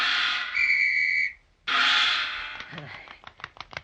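A performing seal in a radio drama blows a whistle, giving two sustained shrill whistle blasts separated by a short gap, followed by quieter clicks and light clatter.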